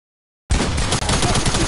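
Sudden loud, sustained burst of automatic video game gunfire erupting from silence, dense and unbroken apart from one brief dip.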